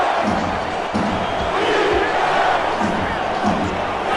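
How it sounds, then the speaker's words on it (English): A football stadium crowd on its feet keeps up a loud, continuous roar of cheering and shouting throughout, with a commentator's voice faintly mixed into the din. "The crowd is on their feet."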